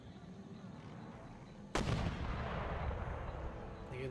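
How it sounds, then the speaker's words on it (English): Mortar fire in Empire: Total War: after a low rumbling battlefield bed, a sudden loud blast erupts and rolls on into a sustained, crackling roar of artillery. "mortars opened up"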